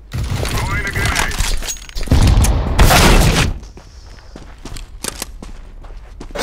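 A grenade goes off in the CS:GO shooter: a short scuffle of footsteps and clicks, then a loud, booming blast lasting about a second, followed by fainter scattered clatter and game noise.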